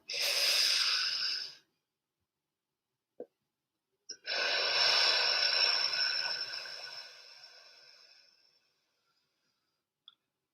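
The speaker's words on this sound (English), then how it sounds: "Take a deep breath." Slow, deep breathing comes close and clear: a short breath, a brief pause and a click, then a long, airy exhale that gradually fades into silence.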